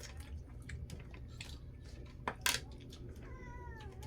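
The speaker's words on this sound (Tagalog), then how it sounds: "Pusa nyo ba yan?" A hungry cat meows near food in a home, a short rising call toward the end, preceded by scattered clicks, taps and a brief louder clatter.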